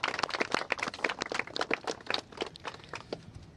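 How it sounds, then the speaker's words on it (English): Applause from an audience at a congressional press event honoring survivors, a dense burst of many hands clapping steadily for a few seconds, close and fairly loud, with no voices over it. "Let's just give a round of applause for all the courage and strength that the survivors"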